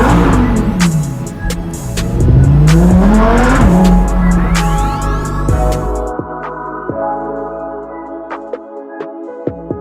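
A Lamborghini engine revs loudly in narrow winding streets, its roar rising and falling as it accelerates and echoes off nearby walls, then cutting to a quieter idle with sharp clicks.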